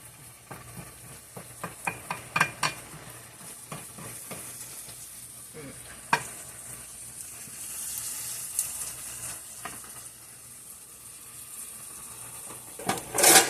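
Beef and mustard frying in a pan over high heat, a constant close sizzle marked by irregular spatters and utensil taps, with a brief burst of louder crackle near the end and a voice faintly present.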